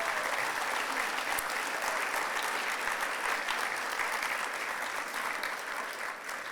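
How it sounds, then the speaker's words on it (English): At the LitFest Gala, a large audience applauds honorees, winners and sponsors with a full, steady roar of clapping that holds evenly throughout. "I want to have one last round of applause for all of our tremendous honorees"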